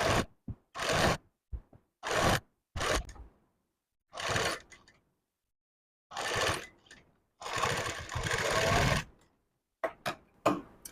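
A sewing machine runs in repeated short bursts with silent pauses between, stitching a piping strip around the neckline of a blouse, close and loud with no voices.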